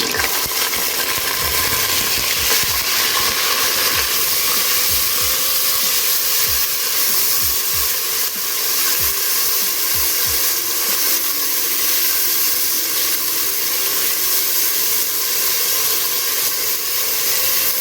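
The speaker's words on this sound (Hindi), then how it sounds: "तो हल्का सा फ्राई करती हूँ मैं," One large chopped onion frying in a pan as the base for cabbage keema, giving a steady loud hiss and sizzle with faint scattered clinks from stirring throughout.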